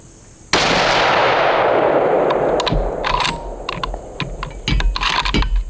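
A .30-06 rifle firing Hornady ELD-X ammunition lets off one loud, sharp gunshot outdoors. A long echo rolls away after it, followed by faint clicks and rustling.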